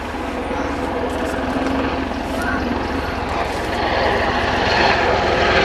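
A Royal Navy Merlin helicopter at the Waddington Air Show 2013, its engine and rotor roar loud and steady throughout, building slightly toward the end, with faint voices beneath.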